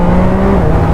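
Zontes 703 RR three-cylinder motorcycle engine running at a steady, loud drone with a sustained tone, no voices over it.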